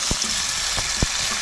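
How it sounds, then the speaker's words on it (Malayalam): Snakehead fish frying in a pan, a loud steady hiss and sizzle up close with a few soft thumps and pops along the way. "ഇനി അടുത്ത സൈഡും കൂടെ നമുക്ക് ഇതേപോലെ തന്നെ ഒന്ന് ഫ്രൈ ചെയ്ത് കൊടുക്കാം"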